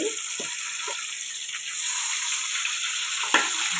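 Fish pieces fry in hot oil with a continuous sizzle and bubbling hiss that swells slightly partway through, broken by a few faint clicks and a small knock near the end, with no voices.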